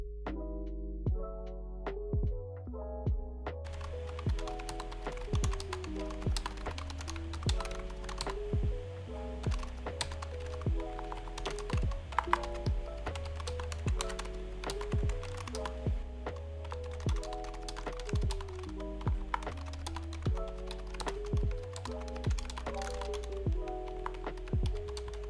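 Typing on a BOW MK610 membrane keyboard, a run of soft, rapid key taps at a steady pace, heard under background music with a tonal melody throughout.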